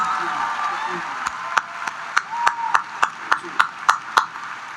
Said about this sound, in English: How about another round of applause for India and Clark?